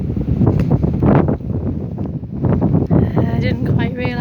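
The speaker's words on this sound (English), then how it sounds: "Yeah, it is windy, mind." Strong wind buffets the microphone in loud, continuous rumbling gusts during a windy bike ride in open country, with a person talking over it.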